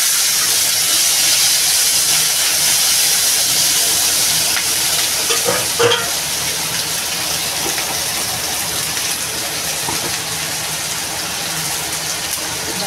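Chopped onion, garlic and green chili dropped into hot oil for a mixed dal with bottle-gourd leaf fritters, giving a steady loud sizzling hiss that fills the whole stretch without pause or talk.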